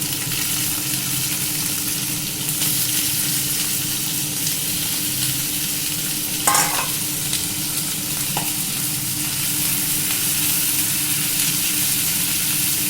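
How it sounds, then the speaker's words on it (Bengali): Onions fry with garlic and ginger in a pan, giving a loud, continuous close sizzle with a few brief stirring scrapes and no talk. "রসুন আর আদাটা একটু ভাজা হয়ে গেছে, তারপরে আমি পেঁয়াজগুলো দিয়ে দিলাম।"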